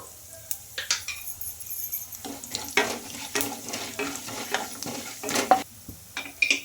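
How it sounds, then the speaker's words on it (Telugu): Chana dal, cumin and mustard seeds hit hot oil in a pan, giving a steady close sizzle broken by sharp clinks and scrapes of a stirring spoon, with no talking. "ఇందులోకి శనగపప్పు అయితే వేసుకుంటున్నా అలాగే జీలకర్ర ఆవాలు"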